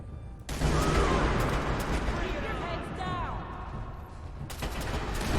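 Gunshots ring out in Fallout 4 as a loud burst of repeated fire with sharp reports and echoing tails, with a second burst of shots near the end.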